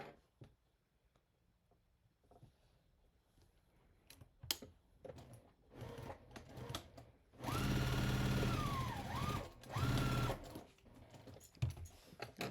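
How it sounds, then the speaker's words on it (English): A sewing machine stitches around the front of a criss-cross apron, running in a loud steady whir for a few seconds, pausing briefly, then running again, with quieter handling clicks before and after. "I am just going to sew it around the front side, the right sides"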